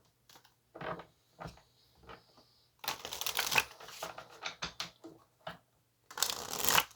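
A tarot deck is shuffled by hand in short bursts of riffling and card slaps, separated by silences and ending in a longer flurry, close and crisp with no voices.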